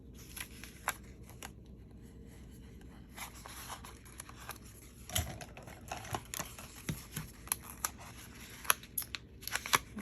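Scissors snip through paper while trimming pieces for a skinny classic Happy Planner spread, a run of close, crisp cuts that quicken toward the end, with no talk.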